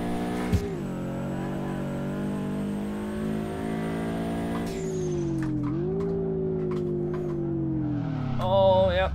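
A Subaru BRZ engine drifting in DRIFT21, a steady droning engine note with rising and dipping revs as the car slides, ending with a brief squeal, close and moderately loud.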